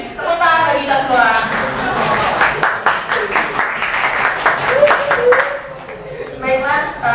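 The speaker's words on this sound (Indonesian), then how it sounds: "Tepuk tangan bagi kita semua." Audience clapping at a morning session of a counseling teacher-training event on preventing teen sexual violence, steady applause running under a presenter's continuous voice for several seconds.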